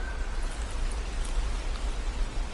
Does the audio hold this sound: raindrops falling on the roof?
yes